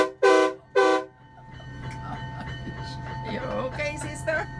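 Train horns fitted to a motorhome sound two loud, close blasts, each under a second, followed by engine rumble and talking voices.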